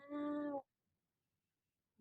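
A cat gives one clear, loud meow lasting about half a second, followed by silence and the start of a second call at the very end.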